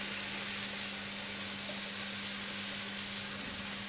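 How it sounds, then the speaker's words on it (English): Vegetarian curry ingredients sizzle steadily in a hot pan, a dense, even hiss over a low kitchen hum that continues without a break. "when I put this in, I want it to sizzle."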